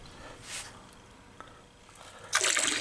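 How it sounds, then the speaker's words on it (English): A gold-panning bottle being rinsed with water, with soft trickling early on and then a louder rush of gushing water near the end. "give our bottle a rinse"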